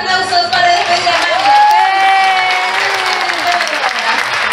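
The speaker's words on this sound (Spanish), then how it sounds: "¡Más fuertes los aplausos" Audience applause fills a zoo's sea lion and penguin show, with steady clapping, some cheering and whoops from a large crowd, loud and sustained throughout, with a faint whistle-like tone rising through the middle.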